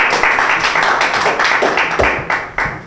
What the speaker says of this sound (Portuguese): Aplausos para o Kid, pessoal.